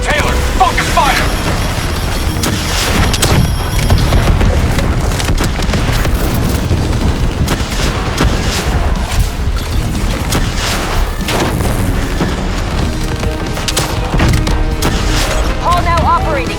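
Call of Duty: Black Ops III combat, with loud, dense gunfire and booming impacts that crackle almost without pause, while voices shout over the battle.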